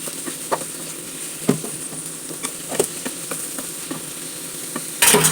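Beetroot pickle with salt is stirred in a pan over heat, a steady frying sizzle punctuated by scattered scraping taps of the spoon, close and moderately loud, ending in a brief louder burst.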